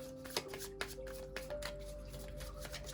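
Tarot cards are drawn and shuffled, with soft repeated flicks and riffling taps over a faint steady hum, close and quiet.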